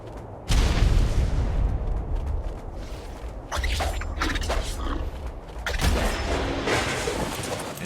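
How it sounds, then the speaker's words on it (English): Grenade blasts in the survival game ARK tear through structures, arriving as several heavy booming bursts with crackling, creaking debris, separated by short pauses. "Thought I might as well use those grenades."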